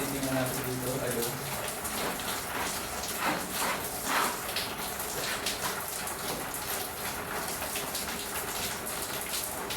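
Heavy rain pours down steadily and close by, a dense broadband wash of drops hitting surfaces, with a voice talking faintly beneath it early on.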